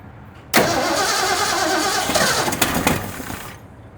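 A 1966 Ford Mustang engine cranks and catches abruptly, roaring into a loud, rough run that sputters and stumbles before cutting off after about three seconds, with no talking over it.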